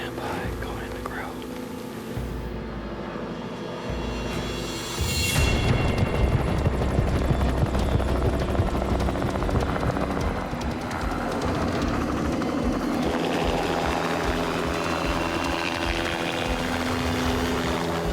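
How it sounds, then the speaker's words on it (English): A police helicopter approaches over a California wilderness area, a low, building rotor roar that grows louder and stays steady overhead while people whisper and talk nearby. "That's our helicopter incoming right now, about 1 minute out."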